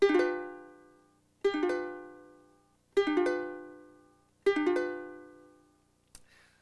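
Full four-string ukulele chord strummed four times at an even slow pace, each strum bright and ringing before fading, close-up and solo, followed by a faint short tap at the end.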